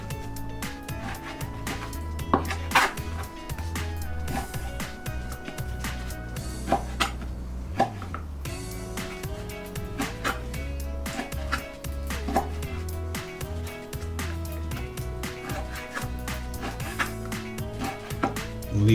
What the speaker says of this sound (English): So I'm just going to cut this into slices, and in the end I'm looking for about 1 inch cube.